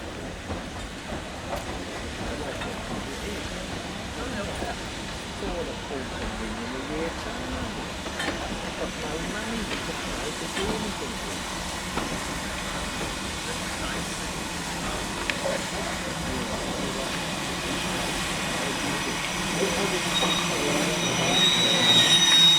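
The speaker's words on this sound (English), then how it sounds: "75027 completes the 1 in 75 climb from Sheffield Park" Steam locomotive 75027 on the Bluebell Railway hauling an evening service up the 1 in 75 gradient from Sheffield Park, a continuous rumble of the train with squealing wheels that grows louder toward the end.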